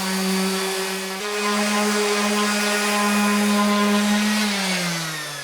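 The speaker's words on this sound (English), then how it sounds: "So I'm just going to hit it with my sander." An electric sander working wood with 220 grit paper, a loud steady motor whine with harmonic drone that shifts pitch slightly as pressure changes.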